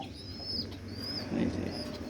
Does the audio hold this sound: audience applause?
no